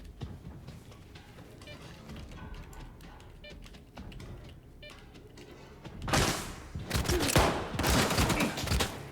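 Gunfire in the video game Stalker 2: after several seconds of scattered clicks and soft thuds, dense, loud bursts of rapid shots break out and continue to the end.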